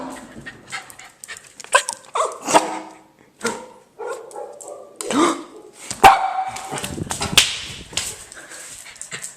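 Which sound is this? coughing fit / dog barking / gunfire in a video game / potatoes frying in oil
dog barking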